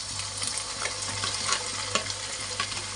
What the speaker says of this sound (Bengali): মশলা এখন লাল লাল করে ভাজা হবে